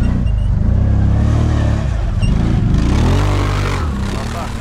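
A quad bike (ATV) engine revs loudly and close by, its pitch rising and falling in repeated sweeps over a steady motor drone, with a voice speaking briefly over the noise.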